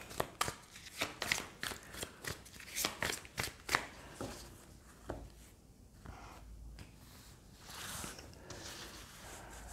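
Oracle cards being shuffled by hand in rapid riffling bursts during the first four seconds, then softer intermittent card handling and rustling, close and fairly quiet with no talking.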